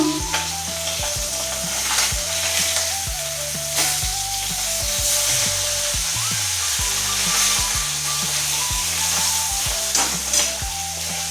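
Pabda fish frying in hot, splattering oil, a loud, close, continuous sizzle with crackling pops throughout and no voices.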